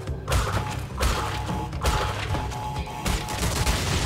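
Bomb explosions in a bomb stage of the Crash Bandicoot video game land as a series of heavy thuds and crunching bursts every second or so, loud over a busy in-game backdrop.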